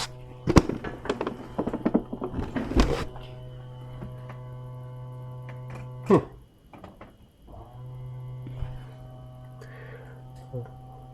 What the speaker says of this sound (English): Can I open it again? I can hear the motor.